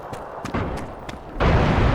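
A car exploding in the video game PUBG: a short burst of booming blasts, then a loud, dense roar of an explosion fills the last half second.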